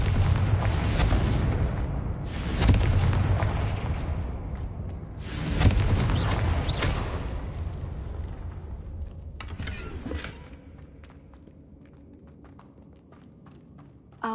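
A Confringo blasting spell goes off in Hogwarts Legacy, with three loud, booming bursts in the first seconds, each trailing into rumbling debris. Quieter creaks and clatter follow.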